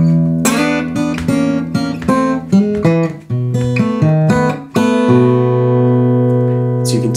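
A Delta blues turnaround, played on a guitar as a short run of plucked single notes and chords that ends on a held, ringing chord. It is clear and up close, with no talking.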